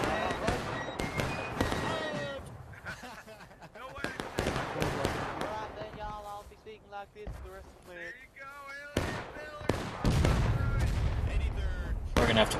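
Cannon fire booms in a War of Rights Civil War battle at Gettysburg. Several sharp, loud blasts stand apart amid battlefield noise, and players talk in between.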